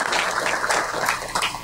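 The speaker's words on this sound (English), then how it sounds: "let's give her a round of applause" Brief burst of audience clapping at a City of Commerce council meeting for Director Bautista, uneven and moderately loud.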